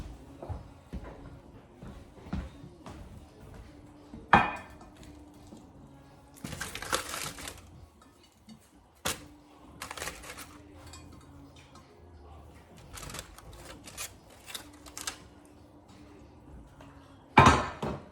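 Corn and sausage go into a pan for a seafood bake, making scattered clattering knocks and crinkling rustles with a few sharper clanks, close and fairly quiet, with no talking.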